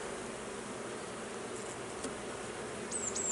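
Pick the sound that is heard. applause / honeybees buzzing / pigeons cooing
honeybees buzzing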